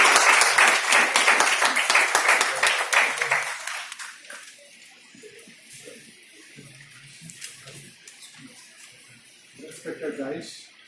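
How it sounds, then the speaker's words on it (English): An audience at a class inaugural event gives Dr. Beg Akhtar Mirza a burst of loud applause that fades after a few seconds. Scattered claps and murmuring voices follow. "Sir, just give a big round of applause to Dr."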